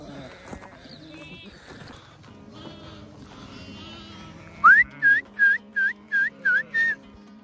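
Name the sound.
flock of sheep being herded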